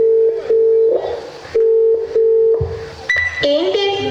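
An outgoing phone call rings unanswered, a ringback tone repeating in paired bursts with short gaps, then shifting into a different electronic tone near the end.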